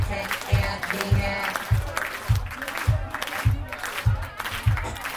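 A concert audience at a punk show claps in unison, a loud, steady rhythmic beat of hand claps with crowd noise and shouting above it.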